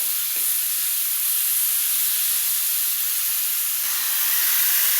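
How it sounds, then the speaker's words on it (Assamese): Chopped spinach frying in a pan until slightly dry, a steady loud hiss and sizzle that carries on unbroken with faint stirring scrapes. "ইয়াত পালেং কাটি অকণমান ভাজি ল'ম পালেংখিনি অকণমান শুকান হোৱাকৈ"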